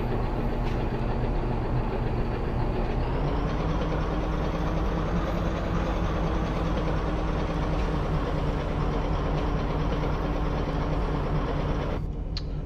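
A Boeing 787 Dreamliner being pushed back in X-Plane 11, a continuous low engine and tug drone with a steady mechanical hum that shifts slightly in pitch partway through, then cuts out abruptly near the end.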